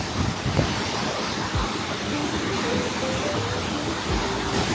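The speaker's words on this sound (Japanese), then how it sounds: "ロイス川の悪魔の橋です。 すごい水しぶきで、こんなところに橋作ったのがすごすぎる。" Rushing Reuss river water crashing and spraying in a rocky gorge at Devil's Bridge near Andermatt, a steady, loud, broadband roar with wind buffeting the microphone and no talk.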